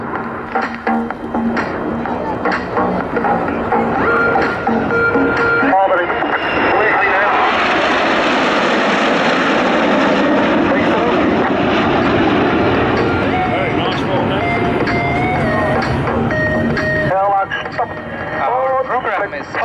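A Swiss Air Force fighter jet performs at RAF Cosford Air Show 2023, its loud roaring engine swelling to a sustained, powerful rush before fading, under steady public-address commentary.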